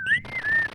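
Whistled melody from the Bionic Commando video game soundtrack, a single clear pitched whistle line sliding up and then holding sustained notes, loud and close over soft background game music.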